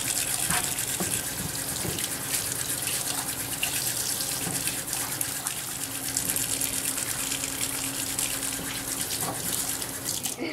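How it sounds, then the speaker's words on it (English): Tap water runs steadily into a sink as fresh asparagus is rinsed under it, a constant close gush with small splashing shifts throughout and no talking. "Okay, so let's wash our asparagus."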